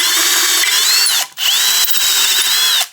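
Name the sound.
90-degree drill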